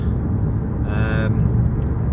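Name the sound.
car driving on the road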